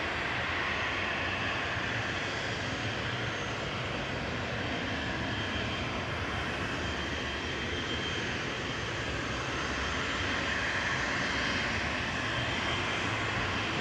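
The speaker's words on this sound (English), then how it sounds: "Swiss Air operated by Helvetic, departing next, heading over to Zurich with flight 391" A Swiss-operated Helvetic Embraer E190LR jet departs Manchester Airport with a continuous moderate engine roar that stays even and unbroken, heard at some distance with no voices.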